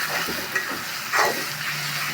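Spice paste of ground cumin, cinnamon, mace, nutmeg and black pepper frying in a pan for chicken rezala, a brief close sizzle with a couple of stirring scrapes.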